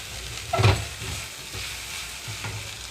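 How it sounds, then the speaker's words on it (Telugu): Tindora pieces frying in a pan give off a steady close sizzle while a spatula stirs them with occasional scraping sweeps. "మధ్య మధ్యలో కలుపుతూ ఉంటున్నాను ముక్క కంప్లీట్గా ఫ్రై అయిపోయింది"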